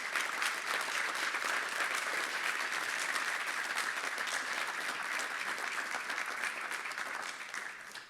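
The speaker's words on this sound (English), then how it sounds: "So let's give him a big round of applause." Sustained applause from an audience at a riverway summit, a dense, even roar of many hands clapping for about eight seconds before starting to fade at the close, with no voices over it.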